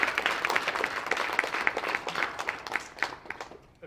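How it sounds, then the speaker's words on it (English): Audience applause at an elementary school's winter sports awards, a crowd's steady clapping that runs a few seconds, then thins and tapers toward the end. "So can we give all those ladies a round of applause?"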